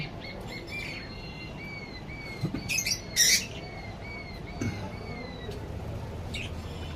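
Java sparrows give thin, repeated chirping calls at moderate distance on a bird farm, with a few sharper squawks and clinks against a quiet background.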